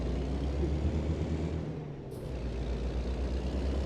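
A truck's air brake hisses in American Truck Simulator, a short burst midway through a steady, loud diesel engine rumble that dips briefly before carrying on.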